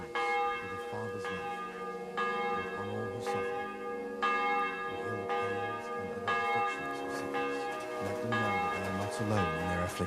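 A church bell tolls repeatedly in Kingdom Come: Deliverance 2, evenly spaced resonant strikes with long ringing overtones layered over a low droning tone, clear and prominent.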